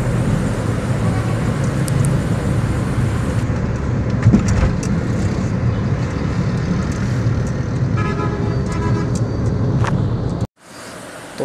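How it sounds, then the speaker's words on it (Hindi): Busy road traffic on a Pakistani road between Zafarwal and Lahore, with cars and buses in a jam: a loud, dense engine rumble, repeated horn toots, a longer honk near the end, then an abrupt drop to near silence. "तो अभी हम फंसे ना ट्रैफिक में"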